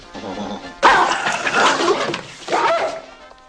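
A dog barks and yelps loudly at close range beside a lake during striper fishing, with a sharp outburst followed by a second burst of barking a moment later.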